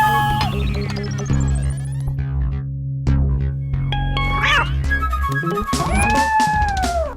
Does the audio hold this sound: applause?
no